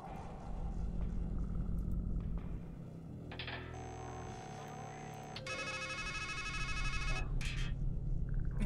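A telephone rings in the Strangeland video game, shrill electronic bursts repeating across the middle of the clip over a low rumbling game ambience.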